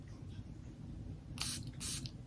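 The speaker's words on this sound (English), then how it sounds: "Let's spray it." Two quick hissing sprays from a pump atomizer, each about a third of a second, close by over a low background hum.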